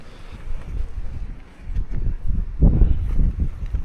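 Strong outdoor wind of around 60 mph buffets the microphone with a low, roaring rumble that swells into louder gusts partway through.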